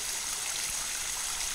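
River water streams and babbles steadily at close range, a continuous broadband rush of flowing current with no voices over it.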